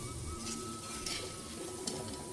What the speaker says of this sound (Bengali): এখানে ভাজা স্টার্ট করে দিয়েছি